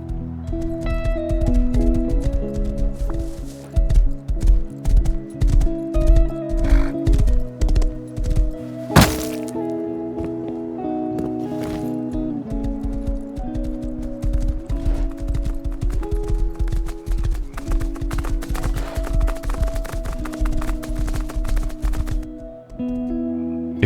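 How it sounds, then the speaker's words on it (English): A horse gallops steadily in the survival game Rust, with hooves drumming in a continuous rhythm over a sustained droning music-like backdrop, some louder thuds along the way, and no talking. "this horse was gonna take me there"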